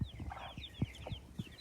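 A hen sitting on a clutch of six eggs and newly hatched chicks at night gives soft, low clucks in a loose, irregular rhythm, close by, with no talk.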